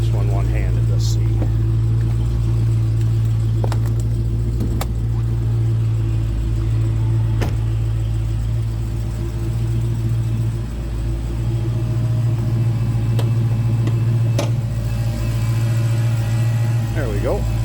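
A 2016 Dodge Challenger SRT Hellcat idles with a deep, steady engine rumble, loud and close, holding a constant low drone throughout with a few faint clicks and knocks over it.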